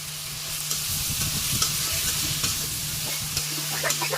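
Potato and tomato pieces frying with spices in a pan give a steady near sizzle, with repeated scrapes and clacks of stirring and a few spitting pops, and no talking.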